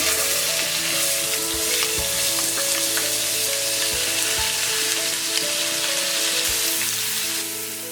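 Soaked chana dal fries in hot oil with asafoetida, giving a loud, continuous crackling sizzle close up, with a few soft knocks of a spoon against the pan and no voices.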